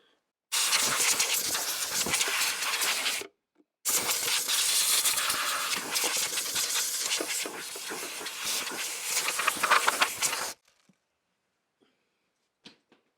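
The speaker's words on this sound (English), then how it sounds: "I'm going to get a hose, air hose, and blow out all this dust" An air hose blasts dust off an automotive fuel pump in two long, loud, close bursts of rushing air with a short gap between them, followed by near silence and a faint click.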